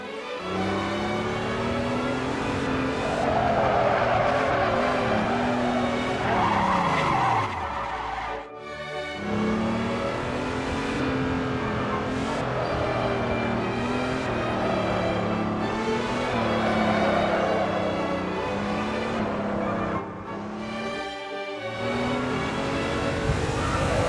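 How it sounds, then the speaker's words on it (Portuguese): An autonomous driverless drift car works a track, its engine droning and revving steadily while tires scrub and squeal in long smeared skids, loud and continuous with brief dips between passes. "a nossa primeira iteração do nosso carro de drift autônomo está pronta para entrar na pista e fazer um drift"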